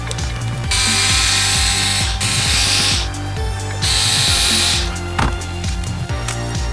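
A power screwdriver whirs in short bursts while removing screws from a 1/14 scale RC buggy, with ratcheting clicks and small metallic handling noises up close between the spins.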